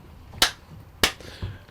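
Two sharp, loud hand claps about half a second apart, close and dry in a quiet room, done to sync recordings, followed by a softer thump.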